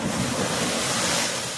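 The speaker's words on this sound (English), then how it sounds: "waves crashing on the beach" Ocean waves crash and wash onto a beach near a boardwalk breakwall, a loud continuous surf roar mixed with wind buffeting the microphone.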